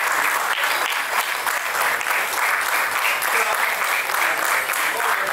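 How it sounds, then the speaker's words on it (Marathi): An audience at a Marathi book launch ceremony keeps up steady, dense applause, a sustained wash of many hands clapping without a break, fairly loud and even throughout. "टाळ्यांचा गजर प्रकाशन सोहळा संपेपर्यंत आपण चालूच ठेवला पाहिजे"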